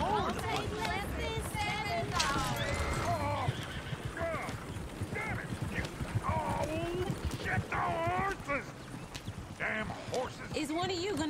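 Horse hooves clip-clop steadily in a Red Dead Redemption 2 town scene, with horses whinnying close by and people chattering throughout.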